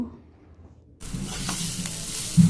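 Sliced onions fry in a pan. After a second of near silence, a loud, steady sizzle bursts in close up and continues, with faint stirring underneath.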